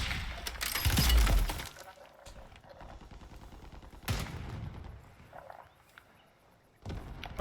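Gunfire in Call of Duty Warzone bursts loudly at the start, with sharp shattering cracks, then quieter scattered shots and another burst near the end.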